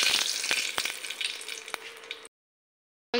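Cumin, green chillies and bay leaves in hot oil: a close, steady crackling sizzle with scattered sharp pops and stirring clicks, which cuts out briefly before resuming.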